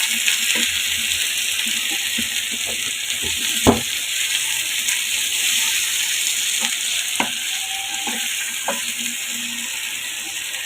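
Dried fish (shutki) from Cox's Bazar frying with spices in a pan, a constant close sizzle broken by scattered clicks and knocks of stirring, with no speech.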